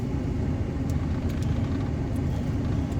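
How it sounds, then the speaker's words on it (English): A big truck idles and rolls by close in a busy parking lot at a street corner, a steady heavy low rumble that fills the whole span without letup. "There's a big ass truck right behind me."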